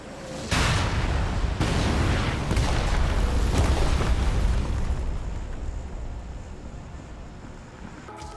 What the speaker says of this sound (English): loud sirens and loud bomb noises occupy the sound table of the map as buildings are blasted to oblivion